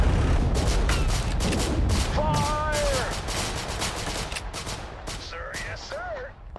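Troops open fire in the video game Total Conflict: Resistance: a dense, continuous barrage of rapid gunshots and volleys, loud and close, with whistling tones rising through the shooting.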